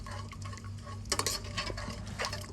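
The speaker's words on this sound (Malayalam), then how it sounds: "നമുക്ക് പരിപ്പ് നന്നായിട്ട് ഇതുപോലെ ഒന്ന് ഇളക്കി കൊടുക്കാം." A spoon stirs cooked dal in a pot for Kerala sadya-style sambar, with soft scraping and a few sharper clinks against the vessel over a low steady hum, fairly quiet and close.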